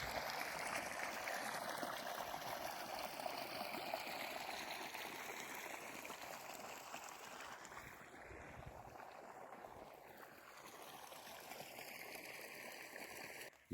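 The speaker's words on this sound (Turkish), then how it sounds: "Hər bir göllərə sürətli şəkildə öz axarı ilə belə su gəlir, gördüyünüz kimi." Water flowing swiftly into fish ponds at a fish farm in Balakan, a steady, loud rushing wash that stays continuous and fairly close throughout, with no voices.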